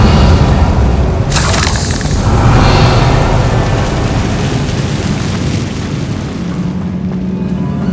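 Revelio spell cast in Hogwarts Legacy, a loud booming magical burst near the start followed by a sustained rumbling wash that gradually thins out, dense and close with no talking.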